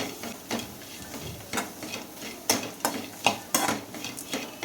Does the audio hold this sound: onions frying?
yes